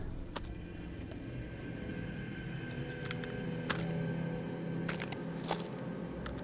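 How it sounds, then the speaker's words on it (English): Dinosaur eggs cracking open as they hatch in an Oculus Rift VR demo built with Cryengine: scattered sharp cracks and crunches over a faint, steady rumbling background, quiet and close. "And as you look at the eggs, they begin to hatch."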